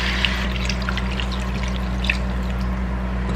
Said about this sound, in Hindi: अब इसमें मैं डालूंगी थोड़ा सा पानी